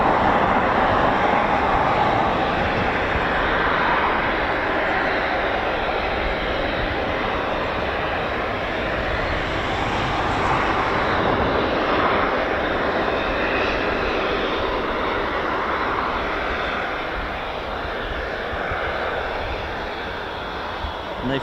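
Reverse-flow three-turbine aircraft engine running steadily, a loud broadband roar that holds nearly level throughout with a slight easing toward the end, no voices evident.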